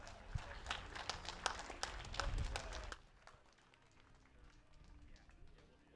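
Applause for an axeman at a STIHL TIMBERSPORTS U.S. Trophy competition in Virginia Beach, a dense burst of crowd clapping lasting about three seconds under an announcer's voice, then fading to a murmur.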